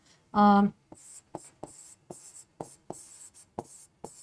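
Writing on a board during a biology lesson on microbes, a series of short scratchy strokes and taps at a steady pace, heard close and clear after a brief spoken sound.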